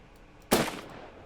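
A single sharp gunshot from a firearm in an indie video game, one loud crack after near silence, followed by a short decaying tail.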